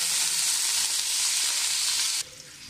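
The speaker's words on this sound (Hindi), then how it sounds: "तब हम इसके अंदर जो है 2 medium size के प्याज कटे हुए" Two chopped medium onions frying in hot oil, a loud close hissing sizzle that holds steady and then drops suddenly to a quieter crackle near the end, with no voices.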